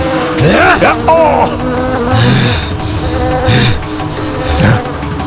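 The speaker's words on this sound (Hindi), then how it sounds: "असंख्य कीट एक साथ ध्वनि उत्पन्न कर रहे हैं" Loud, dense buzzing like a swarm of insects droning together, with swooping tones and low thuds mixed in.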